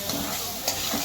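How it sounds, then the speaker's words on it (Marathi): Spices sizzling and frying in hot oil in a pan, a steady close crackle with light stirring scrapes running through the short moment. "चांगलं तळून घेऊ आपण"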